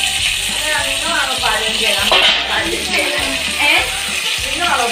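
Curry leaves and chopped onions frying in hot oil for an Onattukara-style theeyal, giving a steady, close sizzling hiss throughout while a person talks over it.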